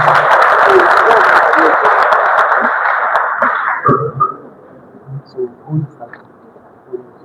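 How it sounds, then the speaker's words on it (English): Audience applause in a university lecture hall, loud dense clapping for several seconds that thins out and fades, followed by scattered murmurs and quieter room sounds. "Please give me a round of applause."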